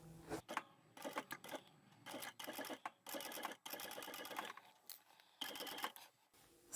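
A sewing machine stitches a leather or vinyl zippered pouch in short rapid bursts separated by brief pauses, its needle clatter close and fairly quiet, with no voices.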